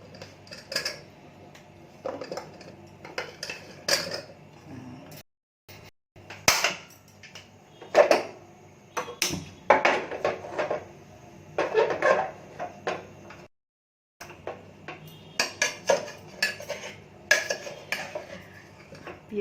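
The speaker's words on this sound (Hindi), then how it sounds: "गैस चालू करती हूँ, डायरेक्ट सब कुछ डाल रही हूँ मैं।" Cooking in a pan on a gas stove, with metal utensils clattering and scraping in irregular bursts, separated by short pauses and close to the listener, and no speech.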